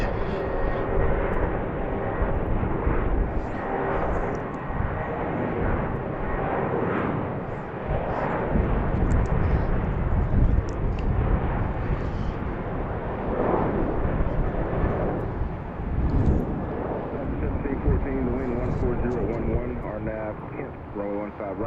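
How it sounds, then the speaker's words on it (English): A Southwest airliner takes off from runway 15 right at BWI airport, a loud sustained jet roar that fills the whole stretch and slowly thins out near the end, with voices and radio chatter over it. "Runway 15 right, clear for takeoff."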